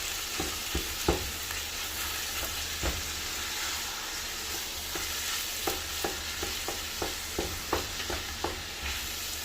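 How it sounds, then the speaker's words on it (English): Mince, pancetta and pork frying in a pan for Bolognese while being stirred and broken up, with a steady close sizzle and a series of scraping, tapping spoon strokes coming at an uneven rhythm. "Mix it together and break it up."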